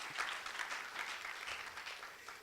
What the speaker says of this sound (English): Could you clap to the guys who did this amazing work?